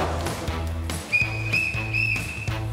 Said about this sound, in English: Three whistles means he's on his way in.